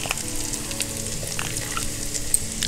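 Coarse green chili paste sizzles steadily in a hot pan alongside ajwain and garlic, a close, continuous frying crackle with light stirring and no talking.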